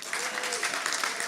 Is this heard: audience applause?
yes